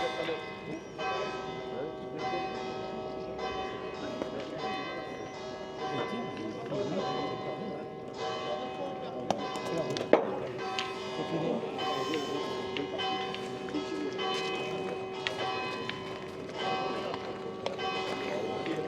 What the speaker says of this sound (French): Voilà les cloches, est-ce qu'elles sonnent là?